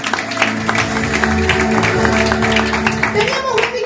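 A church congregation claps together during a sermon, loud rhythmic applause with a voice talking over it and a sustained tone underneath.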